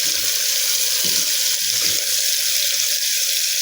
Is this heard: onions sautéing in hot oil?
yes